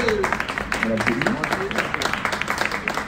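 At an ecologist political campaign meeting, an audience claps in a steady patter under a speaker's continuous voice, moderately loud throughout.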